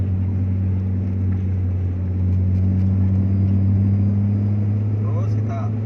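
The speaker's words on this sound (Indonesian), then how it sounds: "Gas dengan posisi gigi 2 masih kuat, biarkan saja. Kita gas naik." Car engine pulling uphill in second gear on a winding mountain road, a steady, strong low hum that swells slightly in the middle.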